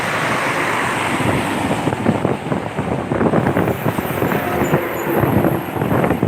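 Rough sea waves at Gumaca, Quezon churn and crash in a loud, continuous wash buffeted by wind noise on the microphone.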